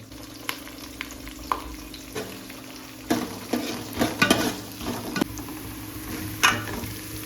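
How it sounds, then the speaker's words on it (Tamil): Onions fry in hot oil for a pot of sambar, a steady close sizzle with scattered stirring scrapes and crackles that grow busier and louder in the second half, no voices. "வெங்காயம் நல்லா பொன்னிறமாக வணங்கிடுச்சு"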